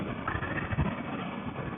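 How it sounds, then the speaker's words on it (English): A Suzuki V-Strom 650 motorcycle engine runs steadily while riding, a continuous mid-level drone with a slight rumble and rushing air blended in, with no speech. "I can hear the engine, which is what I want."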